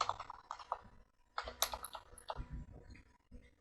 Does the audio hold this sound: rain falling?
no